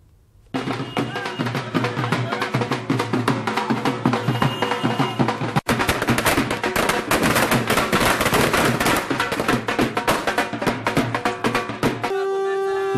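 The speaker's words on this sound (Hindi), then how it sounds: "लोगों ने शहरों में आतिशबाजी की, सेना के जज्बे को सलाम किया" Celebration fireworks crackle and pop in dense rapid bursts, a loud continuous barrage of bangs that runs nearly unbroken, briefly cut once, then ends in quieter tones.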